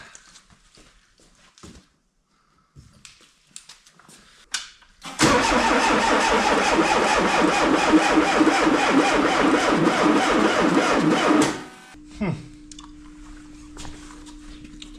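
A sand rail engine with a new starter cranking over slowly on a jumped battery, a loud sustained churning for about six seconds after some quiet handling noises, then stopping with a short tone afterward.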